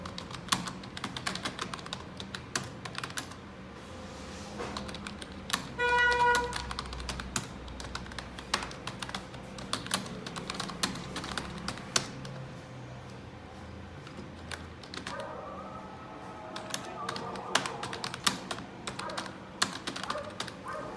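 Rapid keystrokes patter steadily on a computer keyboard as a school name is entered at a typing and computer centre, close and continuous for about twenty seconds with short pauses and a few heavier clacks.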